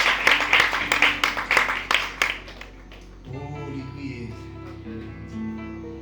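A small group applauds with dense, uneven clapping for about three seconds, fairly close and loud, at a family gathering in a Haitian driveway; the claps then stop abruptly, leaving quieter voices and background murmur.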